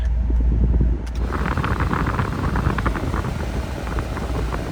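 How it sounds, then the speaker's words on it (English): Air conditioning in a 1995 Pontiac Firebird Formula is switched to max, a loud steady rush of blower air that surges in after a click and keeps roaring evenly with no talking. "I'll show you here the AC does work. We'll put it on max."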